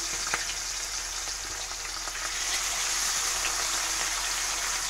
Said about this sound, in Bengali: মাছগুলোকে একটু লাল লাল করে ভেজে নেব